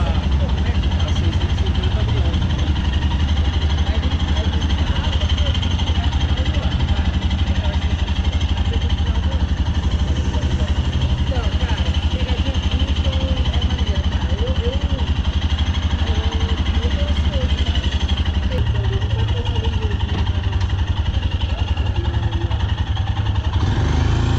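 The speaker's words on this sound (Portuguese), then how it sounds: "deixar aqui agora para vocês ouvirem esse motor em marcha lenta" A Royal Enfield Himalayan motorcycle engine idles steadily at close range, its low rumble carrying a faint irregular rattling or internal grinding underneath.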